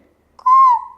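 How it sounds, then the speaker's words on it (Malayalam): A single clear, tuneful whistled call rising then falling, like an Asian koel, lasting about half a second, close and loud with no voices. "ഇത് കുയില്."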